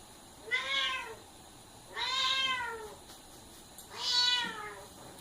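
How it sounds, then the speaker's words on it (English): A female house cat in a kitchen meows three times in long, drawn-out, evenly spaced calls, fairly close and clear over a quiet room, with no talking. "Don't mind the cat. She would like to sing you all the song of her people."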